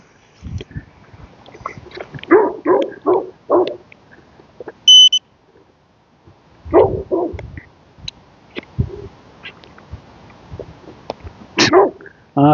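Dogs bark in loud, irregular bursts on an outdoor street, several quick barks in clusters separated by quiet gaps, with a brief electronic beep in between.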